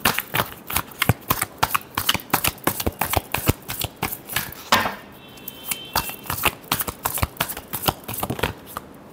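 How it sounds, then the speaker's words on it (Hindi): A deck of tarot cards is shuffled by hand during a reading, giving close, loud, rapid riffling flicks in irregular bursts with a brief pause midway, no talk over it. "Last shuffle."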